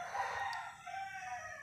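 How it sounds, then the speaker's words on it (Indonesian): A neighbour's rooster crows in the background, a drawn-out, moderately distant cock-a-doodle-doo heard alone without talk. "Mohon maaf kalau ayamnya agak berisik ya. Ini ayam tetangga"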